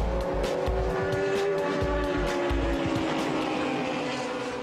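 Le Mans race cars in the 2003 endurance race roar continuously past at close range, a loud sustained engine drone with steady tones and rhythmic low thumps throughout.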